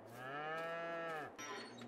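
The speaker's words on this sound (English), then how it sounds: "Let's get these cows in." One long, drawn-out cow moo from the Farming Simulator 22 video game, clear and near, fading at the end with no talk over it.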